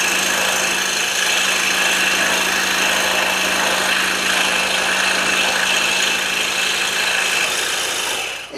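Steady, continuous rasping buzz of a scroll saw cutting through wood, loud and close, running without pause before stopping abruptly at the end.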